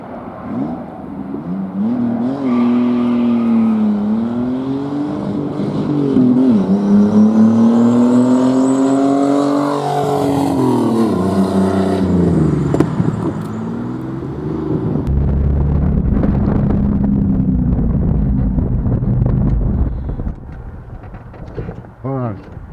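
A turbocharged Pontiac Fiero launches on a quarter-mile run, its engine note climbing through rising revs in long pulls with brief shift dips, loud and close, then settling into a rougher rumble.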